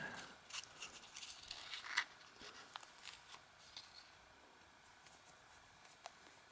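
An old foil condom wrapper is handled and torn open up close, giving faint crinkles, small clicks and brief rustling snaps in an otherwise quiet room.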